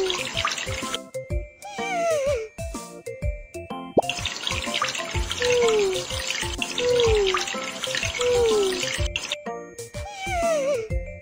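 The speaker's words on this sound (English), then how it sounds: "Let's shower him." A puppy is showered in a kids' pet care video game, with continuous splashing, hissing water and dripping running throughout, interrupted by short gaps. Falling chime tones and soft background music sit under the water.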